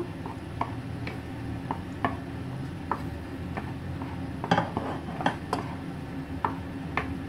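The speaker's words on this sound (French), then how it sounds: "Je vais remuer comme ça jusqu'à ce que le beurre soit complètement fondu." A spoon stirs melting butter into mesfouf, a sweet couscous with raisins, in a pot. Faint, quiet scraping comes with light regular ticks and taps against the pot, and no one speaks.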